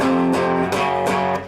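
An electric guitar plays a power chord from a song's riff, struck several times in quick succession, each attack ringing into a full sustained chord, played alone and up close with no voices.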